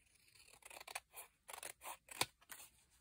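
Close, quiet scissor snips cut through a paper tag meant for window envelopes, a series of about eight crisp cuts with short gaps between them.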